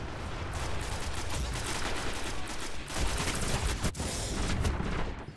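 Rapid gunfire in the video game Destiny, dense overlapping bursts of shots that run almost continuously with a few louder cracks, loud and close with no pauses.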